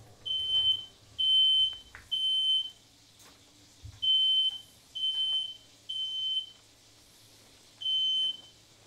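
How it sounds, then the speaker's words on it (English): A smoke detector set off by cooking bacon sounds a series of about eight shrill electronic beeps in uneven bursts, loud and close, with brief quiet gaps between them. "Bacon, a smoke detector's worst enemy."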